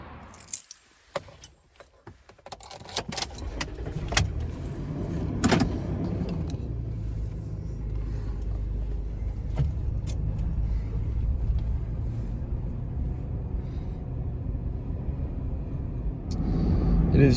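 Car driving on the road, a steady low rumble of engine and road noise that builds after a few seconds of jangling keys and interior clicks at the start, then holds evenly.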